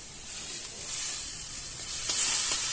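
Steady close sizzle of something frying in a pan with a little salt and turmeric, a continuous hiss with light stirring scrapes and no talk.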